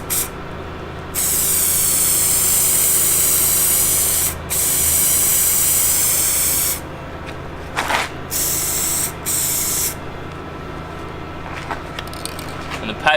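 Aerosol spray cans hiss as paint is applied to the engine rocker cover of a Toyota KE70. A long, loud, close spray with one brief pause is followed by several shorter bursts.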